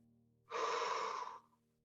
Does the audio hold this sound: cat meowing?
no